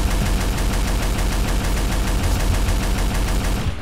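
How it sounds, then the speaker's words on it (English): Continuous rapid gunfire in a video game, a loud, dense crackle of shots running steadily throughout without pause and no voices over it. "Lucy, can I shoot your foot?"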